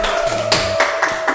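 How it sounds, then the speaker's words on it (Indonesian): Sparse, close claps from a small studio audience welcoming a taekwondo athlete guest onto a talk show, with a few separate hand claps spread over about a second. "Kasih tepuk tangan."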